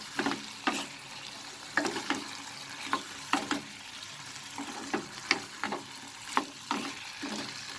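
Beetroot chicken in a pan being stirred over the heat, with a soft steady sizzle broken by repeated scraping strokes of the spoon, roughly a dozen in an even rhythm, close and moderately quiet.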